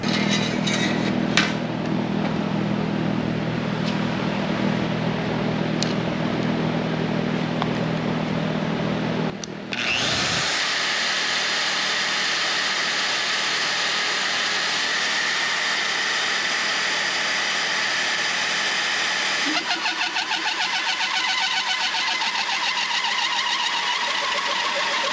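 A powerful portable drill press whirs and grinds through metal, cutting 2-inch plugs at length, a loud continuous machine drone that shifts pitch partway through.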